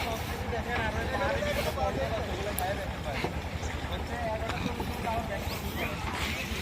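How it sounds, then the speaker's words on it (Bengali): A boat travels across Kaptai Lake with a steady engine drone, water wash and wind buffeting the microphone, while a voice talks over it throughout. "এই হচ্ছে আমাদের বোট"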